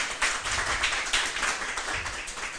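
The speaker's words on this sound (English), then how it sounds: "Give her a round of applause." A small audience at a Syrian community network event claps for a sponsor, a short burst of close, fairly loud, uneven hand clapping with no talking.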